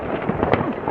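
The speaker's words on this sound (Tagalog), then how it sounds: "pakita ko muna sa inyo mga fireworks ito." New Year fireworks crackle and pop in a brief, loud burst of rapid bangs outdoors, with a sharp report near the middle.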